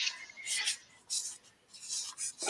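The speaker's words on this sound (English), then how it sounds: "we're both sanding there, mate. Sanding sanding in stereo. Synchronized sanding." A model kit part for a Chinook helicopter is sanded by hand in short rubbing strokes, about five quick scratchy bursts separated by brief pauses, close and fairly quiet.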